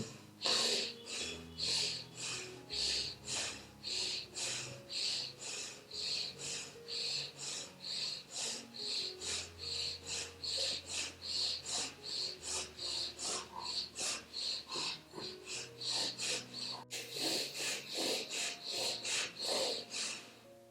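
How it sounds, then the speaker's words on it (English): Rhythmic yoga breathing, steady deep inhales and exhales repeating about every second across the clip, close and fairly loud with a breathy, snorting quality and a low musical drone underneath. "Now begin inhale, exhale."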